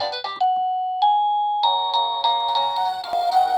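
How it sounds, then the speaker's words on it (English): Wireless window and door motion sensor alarm plays a run of electronic chimes: a bright ding-dong, a sustained tone, then several melodic tone patterns in quick succession, clear and close with no talking. "This is the different chimes."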